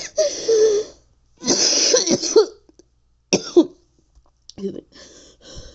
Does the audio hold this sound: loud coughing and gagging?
yes